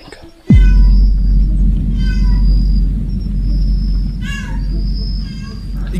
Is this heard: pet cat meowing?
yes